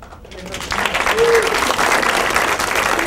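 Loud, steady applause from a crowd, a dense wash of clapping that swells quickly and holds for the whole stretch.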